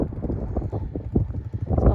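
Strong wind buffets a phone microphone on an open fell hillside during a sheep gather with dogs, a low rumbling roar that swells and gusts unevenly throughout.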